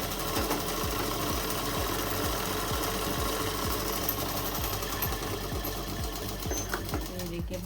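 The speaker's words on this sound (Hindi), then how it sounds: "जिस तरह से मैं सिलाई लगा रही हूँ बिल्कुल आपको भी उसी तरह से लगाना है" A sewing machine runs continuously while stitching a shalwar, its needle thumping in a quick, regular mechanical rhythm, close and steady throughout with no pauses.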